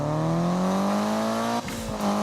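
A racing car engine in a Need For Speed race, steady loud high revving with a rising pitch that dips abruptly near the end as a gear change or lift-off, then climbs again.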